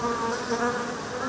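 Bees at an apiary in the Uglegorsk district of Sakhalin, a dense close-up buzzing hum that holds steady and loud throughout, with no voices.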